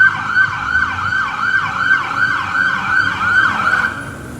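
An ambulance siren wails in a steady, repeating up-and-down sweep as it passes on the street, loud and close throughout, with traffic rumbling underneath and no talking.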